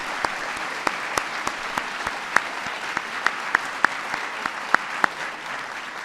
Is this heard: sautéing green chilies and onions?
no